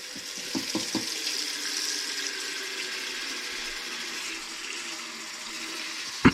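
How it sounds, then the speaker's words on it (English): Cold water poured into a container of cucumbers for kosher dill pickles, a steady running trickle close by, preceded by a few brief knocks and ending with a sharp click. "Enough water to cover, cold water."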